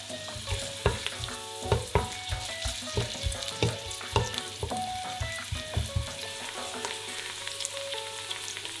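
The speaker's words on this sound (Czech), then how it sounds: "A zatímco se nám cibulka restuje" Chopped onion sizzling in a pan as it softens for pumpkin soup, a constant close crackle of frying with regular clicks and scrapes from stirring, and no voices.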